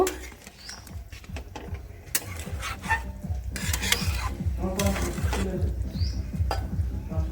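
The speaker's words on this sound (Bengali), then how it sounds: "ডিমটা দিয়ে নিয়েছি দিয়ে ভালো করে একটু নাড়াচাড়া দিয়ে নেব" A spoon scrapes and stirs in a rhythmic, repeated motion as fried eggs are mixed into a simmering egg curry. The sound is close and clear, with soft bubbling behind it.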